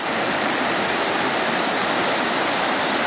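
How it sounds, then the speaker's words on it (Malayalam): A stream flowing along a roadside in the countryside near Junnar village, India, gives a steady, loud broadband rush of water that carries on unbroken with no voices. "ഒരു അരുവി ഒഴുകിപ്പോകുന്ന കാഴ്ചയാണ്."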